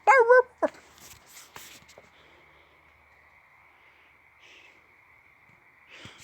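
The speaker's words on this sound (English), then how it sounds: "if you guys go outside at night, you can hear the coyotes going off." Coyotes yip and howl outside at night in a field beside woods: a brief burst of sharp, high yelps at the start, then a thin, faint howl held in the distance, with light rustling nearby.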